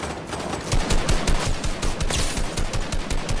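Rapid bursts of automatic gunfire in a first-person shooter game, close and loud, many shots crackling in a dense irregular rhythm with no talking.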